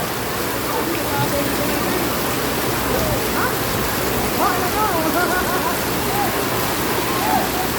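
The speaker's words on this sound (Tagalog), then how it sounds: "Ang lakas ng ulan, guys." Heavy rain pours steadily in a broadband wash, loud and unbroken, with faint birdlike chirps and murmurs of people talking underneath.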